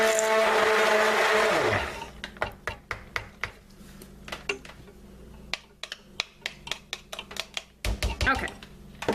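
A stick blender whirs steadily through cherry almond cold process soap batter for about two seconds, then stops, followed by scattered sharp taps and clicks of the blender and its holder.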